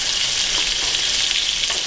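Breaded fish sizzles and crackles steadily in hot oil in a pan, a loud, dense frying hiss that runs throughout with small stirring shifts and no talk.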